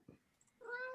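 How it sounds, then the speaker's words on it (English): An indoor cat, a fairly vocal one, gives a soft thump and then a clear, drawn-out meow, close but quiet. "Your cat sounds like he's a human."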